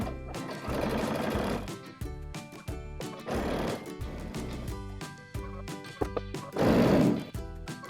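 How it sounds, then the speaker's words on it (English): A sewing machine stitches fabric with a 1/4 inch seam in close, loud bursts of rapid mechanical chatter, stopping and restarting several times with short pauses, no voices. "I'll take it to my sewing machine and sew all the way around using a 1/4 inch seam allowance."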